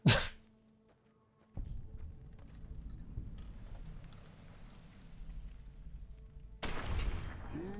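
Friendly-fire gunshots in the Fallout video game: a sharp blast opens, a rough, noisy rumble follows, then another loud burst of fire near the end.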